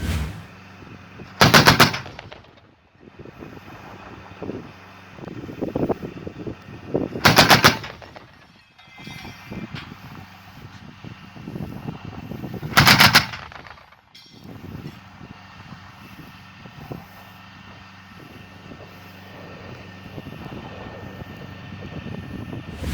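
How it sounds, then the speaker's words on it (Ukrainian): A German Gepard anti-aircraft gun fires three short, very loud bursts spaced several seconds apart, each rate of fire around 550 rounds per minute per barrel, with rumbling engine and machinery noise between bursts. "Темп вогню кожної гармати 550 пострілів на хвилину, тобто разом 1100 пострілів по цілі."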